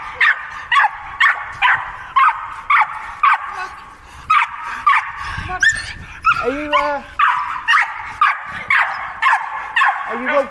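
Dogs bark repeatedly in sharp, evenly spaced yips close by, breaking into whimpers and a yelping whine midway as they play, with a person talking faintly beneath.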